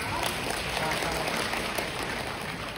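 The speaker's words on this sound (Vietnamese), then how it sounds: "Có xứng đáng nhận tràng vỗ tay không ạ?" Steady, dense applause from a seated audience at a leadership talk, a continuous wash of many hands clapping evenly throughout.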